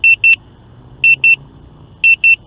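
Potensic Atom SE drone controller sounding a warning: crisp, loud, high-pitched electronic beeps in pairs, repeating about once per second, with quiet background otherwise.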